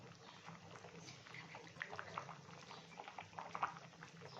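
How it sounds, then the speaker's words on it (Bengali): Dhoka curry gravy (dhokar dalna) bubbling in a pot, a faint, soft simmer with irregular small pops and gurgles. "ঝোলটা ভালো মতো ফুটে গেছে"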